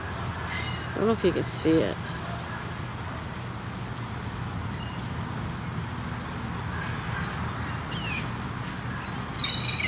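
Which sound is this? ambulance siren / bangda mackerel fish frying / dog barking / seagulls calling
seagulls calling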